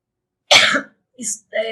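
A single harsh cough bursts out loud and close, then trails into a few quieter breathy sounds and a brief voiced murmur from the same person.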